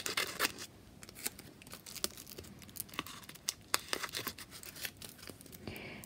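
Scissors snipping out paper stickers made with a Xyron sticker maker, a string of quick, faint, close cuts and crinkles in a quiet room.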